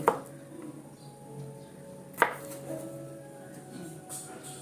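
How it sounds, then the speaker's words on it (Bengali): A kitchen knife slicing garlic thinly on a cutting board in a home kitchen: two sharp, separate chops about two seconds apart, close and crisp, over a quiet background hum. "রসুনটাকে এইভাবে কাটবো"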